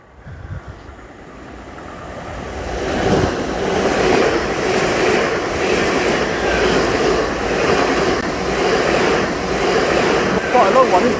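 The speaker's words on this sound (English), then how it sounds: "Got the train coming." A long train passes under the cliffs at Dawlish, Devon, its loud rumble building within seconds into a sustained roar with rhythmic clickety-clack of wheels on rails, close by.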